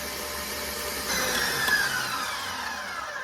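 An electric mixer whips gluten-free strawberry cake batter in a bowl. It makes a steady, loud, close whirring drone that barely changes for the whole stretch, with no voices over it.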